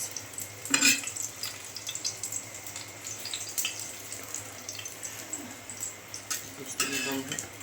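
Cheese papad cooking on a low gas flame, a steady soft sizzle with occasional scraping and clinking bursts, moderately close and fairly quiet throughout.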